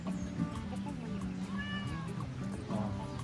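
A pet cat meows several times in a row at home near food, close and clear, with a few drawn-out mews over faint background noise.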